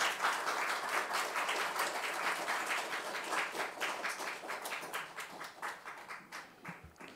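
A congregation at a Korean Sunday worship service applauds to welcome a clarinet performer, a dense, brisk patter of many hands that holds steady and then thins and fades toward the end.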